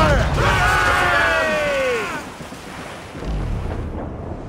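Cannon fire from a sailing warship in Assassin's Creed Rogue: loud booming blasts at close range, followed by a long rumbling roar that fades, then a second low rumble, with a shouted voice at the start.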